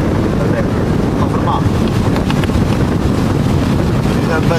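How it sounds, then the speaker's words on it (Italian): Strong wind blasting across a microphone on a beach near Foggia, a loud continuous low roar and buffeting that fills the whole few seconds. "È andato un vento qua."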